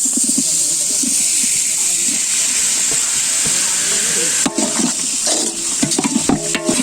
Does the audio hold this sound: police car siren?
no